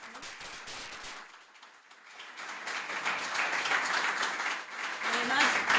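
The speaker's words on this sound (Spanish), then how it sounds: "Pues un aplauso, por favor," Conference audience applauding a speaker named Nico at an investment-fund event, a dense crackle of many hands that swells after a brief dip and carries on steadily to the end, fairly close and loud, with no voices over it.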